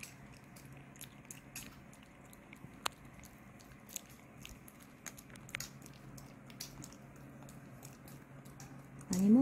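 A pet hurriedly eating torn lettuce leaves, with rapid small crunching bites and nibbling clicks, close and fairly quiet over a low steady hum.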